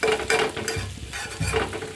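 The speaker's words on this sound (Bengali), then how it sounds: "তেলের ভিতরে ভাজা ভাজা করে নিচ্ছি" Fish fry in hot oil in a pan with a close, crackling sizzle and a few scraping stirs.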